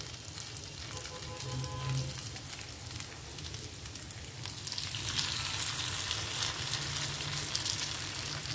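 Thin portions of spiced potato mixture frying crisp on a hot tawa, giving a continuous close sizzle that swells louder and brighter partway through and then stays steady.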